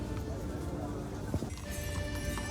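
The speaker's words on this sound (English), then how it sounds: "Also, I kept on spotting horses and carriages everywhere." Hooves of a horse-drawn carriage clip-clop on a Kraków street during a winter Christmas market, a few steady strikes under crowd chatter and general street bustle.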